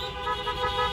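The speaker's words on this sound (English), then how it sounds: "Honk your horns, please," Car horns honk steadily at a drive-through event, a dense sustained blare of overlapping tones filling the whole second with no talk.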